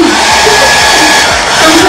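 Loud, steady rush of air from a hair dryer used in an experiment to make something levitate, a broad continuous roar for two seconds with slight fluctuations and no talk.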